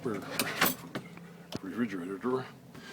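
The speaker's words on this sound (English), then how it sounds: "And then a refrigerator drawer." A refrigerator drawer in a camper van's built-in cabinets slides open or shut with a few short knocks and scrapes, under a person talking close by.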